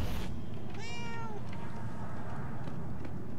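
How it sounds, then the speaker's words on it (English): A cat in the video game Murdered: Soul Suspect gives a single rising-then-falling meow, clear and fairly close, after a brief burst of noise, over a low steady background hum. "there's a kitty cat."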